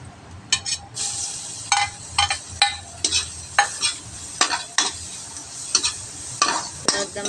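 Crushed garlic crisps in oil in a pan ahead of cooking garlic shrimp, a continuous sizzle broken by repeated scraping stirs of a utensil against the pan, close and fairly loud, with no talking.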